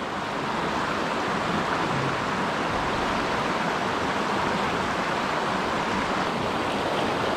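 River water tumbling over rocks into a small pool, a dense continuous rushing roar, steady and close with no talk.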